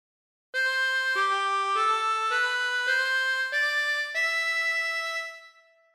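Harmonica playing a phrase of God Defend New Zealand, seven clean sustained notes in a steady stepwise line, loud and alone, the last note fading out.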